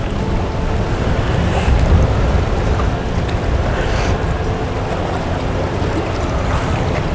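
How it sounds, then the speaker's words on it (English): Churning water and waves rush continuously at the Jupiter Inlet jetty, a loud, steady wash with wind buffeting the microphone and no voices. "On a day like today, the water's churning pretty good."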